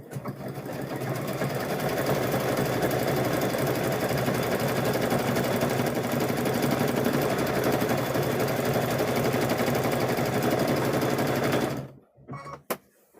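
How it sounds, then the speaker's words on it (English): A sewing machine stitches a patchwork quilt in one loud, continuous run of about twelve seconds, then stops, leaving a couple of faint clicks. "we're going to stitch it down this way"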